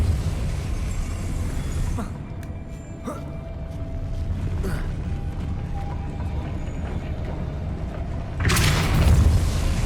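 Depulso spell blasts go off in the video game Hogwarts Legacy with heavy booms and creaking mechanical rumbles, while a voice speaks briefly among the effects.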